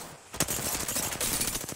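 Gunfire in a competitive shooter game, a sudden sharp shot after a brief quiet followed by a rapid crackling string of shots, close and bright, with no talking.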